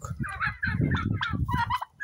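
A turkey gobbling among other poultry, loud and close, with rapid rattling calls mixed with honking fowl voices over two seconds.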